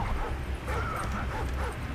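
Dog whimpering and yipping in the Call of Duty Modern Warfare 3 campaign, a steady run of whines and short yelps over a constant low game rumble, with no talk.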